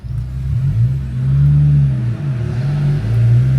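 An Acura Integra's engine drones while driving toward a gas station, a loud steady low hum with gentle rises and dips in pitch as the car accelerates and eases off.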